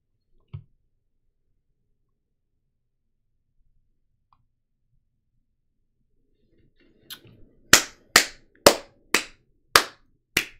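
A clapping emote in the Magic card video game sounds as six crisp, evenly spaced claps close together near the end, preceded by a single faint tap and long silence.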